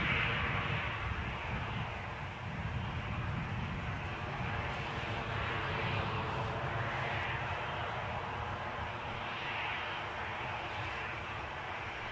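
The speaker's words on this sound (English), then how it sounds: "Some excellent planes by the sounds of it." A jet aircraft engine roars at Newcastle airport, a broad, steady rumbling drone that holds at moderate distance throughout, with no talking.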